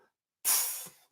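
A voice imitates a hi-hat: one drawn-out breathy hiss, bright and close, fading out after about half a second.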